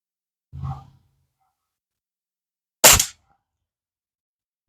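Two sharp shots from a Norica Titan break-barrel air rifle ring out a couple of seconds apart, each a short, loud crack or thump against silence, with the start of another at the very end.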